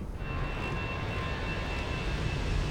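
Vueling Airbus A319 jet climbing out after takeoff toward San Sebastian in Microsoft Flight Simulator 2024, a steady loud roar of engines and broadband rush with a faint whine held at constant level, no talk.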